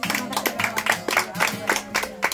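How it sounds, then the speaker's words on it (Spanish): Audience applause at a family Mother's Day gathering, a short burst of clapping with rhythmic peaks, fairly close and moderate in level. "Vale, aplausos ahí."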